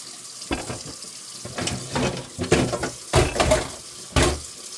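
Running tap water splashes in bursts as something is rinsed and scrubbed with soap at a kitchen sink, loud and close, with no voices.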